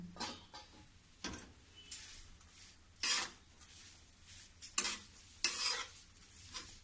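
Raisins stirred and roasted in a pan over a low gas flame while making raw-rice laddoos, giving a series of scraping stirs with soft sizzling between them, fairly close and quiet, with no voices.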